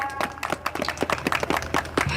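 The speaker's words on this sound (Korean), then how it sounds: "여러분 다시 한번 큰 박수 부탁드립니다" Audience applause at a Korean political party press conference for a presidential candidate, a brief burst of scattered clapping from a nearby crowd that holds steady throughout.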